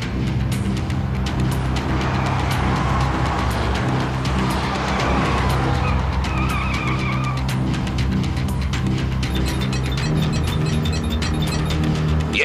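Cars in a fast chase on a city street, with engines roaring and tires skidding and squealing in repeated bursts over a loud, continuous motor drone.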